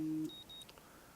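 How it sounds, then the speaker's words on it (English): Alarm clock in the Life is Strange video game, a quiet electronic beep: a short tone followed by two thin high pips, faint and alone. "What was that? My alarm?"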